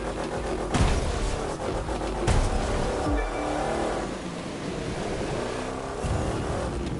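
Corvette Grand Sport engine driving a racing lap in The Crew 2, a steady loud engine drone with a few surging bursts throughout, no talking.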